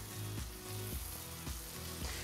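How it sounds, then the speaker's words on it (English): A New York strip steak sears on a Pit Boss Sierra flat top griddle, giving a soft, continuous sizzle at low level, broken by a few faint rhythmic scrapes or thumps roughly every half second. "Another good sear on that side."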